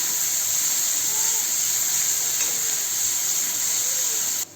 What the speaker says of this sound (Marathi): कांदा परतून झाल्यावर टोमॅटो आपण परतून घेऊया.